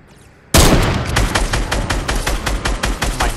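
Loud rapid automatic gunfire from the video game Fortnite bursts in suddenly and keeps going as a dense, steady stream of shots, close and overwhelming, with no voices over it.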